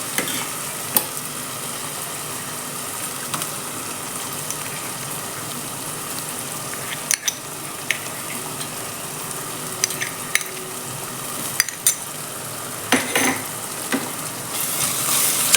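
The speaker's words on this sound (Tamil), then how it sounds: "இஞ்சி பூண்டு பேஸ்ட் போடலாம் கொஞ்சம் நல்லா வதங்கி வரும்" Onion, tomato and ginger garlic paste sauté in a pan, giving a continuous sizzle under repeated sharp scrapes and clinks of a stirring spoon, with no voices.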